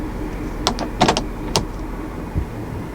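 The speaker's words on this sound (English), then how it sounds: "You just twist this knob." A 2020 GMC Sierra 2500 HD tow mode knob is twisted inside the cab, giving a few soft, quick clicks over a low, quiet background hum.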